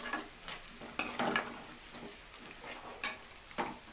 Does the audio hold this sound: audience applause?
no